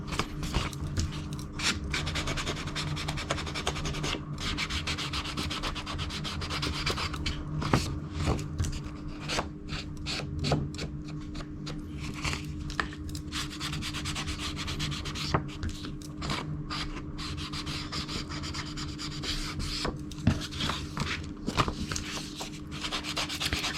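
Brown ink being rubbed onto the edge of paper for a handmade Christmas photo album, a soft, close, continuous scratchy rubbing with irregular small scrapes and no voices.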